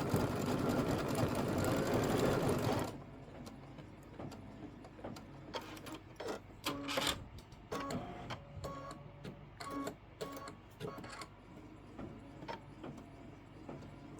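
A Kimberbell bench pillow's felt bunny gets its nose and cheek stitched by an embroidery machine. A loud continuous run gives way to quicker, intermittent bursts of buzzing needle strokes.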